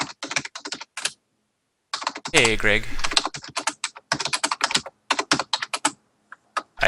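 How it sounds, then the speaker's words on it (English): Rapid clicking of computer keyboard typing during an online game tournament call, close and bursty, interrupted briefly by a voice calling out a greeting. "I hear you typing."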